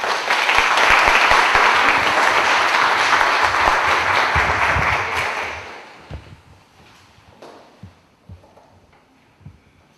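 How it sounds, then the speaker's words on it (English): Audience applause at a middle school speech contest, a loud sustained crowd clapping for about five seconds that fades out, leaving a few scattered claps and light noises in a quiet room. "Give him a round of applause."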